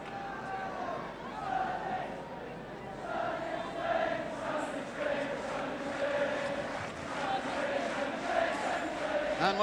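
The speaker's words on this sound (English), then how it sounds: "the Welsh crowd can start to chant sunny Spain, sunny Spain" A large Welsh football crowd at the Vetch chants and roars through a night match against Iceland. The rhythmic chanting rises and falls steadily, fairly distant and filling the ground, with no clear commentary over it.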